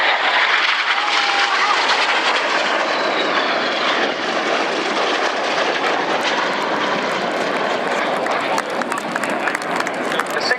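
Red Arrows display jets fly a formation pass at the Yeovilton airshow, a loud, sustained roaring rush of jet engines that stays strong the whole time, with crowd noise and talk underneath.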